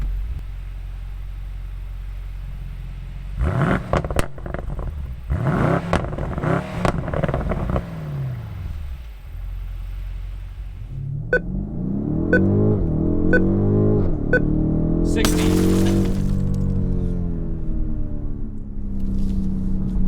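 A 2019 BMW M850i xDrive in Sport Plus mode accelerating hard from a standstill to 60 mph, the engine note rising through several gear pulls with brief clattering shifts, loud and close inside the cabin.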